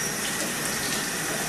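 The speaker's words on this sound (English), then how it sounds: "so you turn on the water" Warm water runs steadily from a tap, a constant bright hiss and splash for preparing to bathe a cat.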